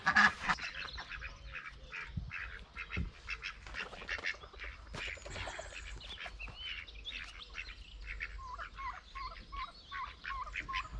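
Several ducks quack and chatter continuously nearby, a busy overlapping chorus of nasal calls with no talking.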